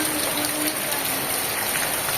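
Heavy rain pours steadily outside a house, a dense, continuous hiss close by with no break across the short stretch.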